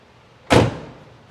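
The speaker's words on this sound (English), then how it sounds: "See how the door shuts?" A Mercedes 190SL car door shutting once with a solid, close thud, leaving a short fading tail in a quiet setting.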